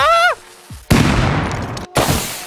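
Incendiary rounds fire in the Rust video game as loud, dense bursts of crackling gunfire, preceded by a brief tonal game sound and broken by a short gap before more firing.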